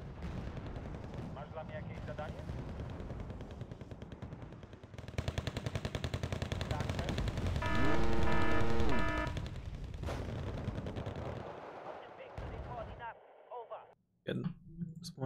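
Gunfire and explosions in the video game Wargame: Red Dragon, with rattling automatic fire, heavy booms and a rising whistling tone, loud and busy, while someone talks over parts of it.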